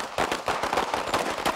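Gunfire from deputies at a sheriff's firing range: a quick string of sharp, loud shots cracking in close succession, several overlapping reports with no talking.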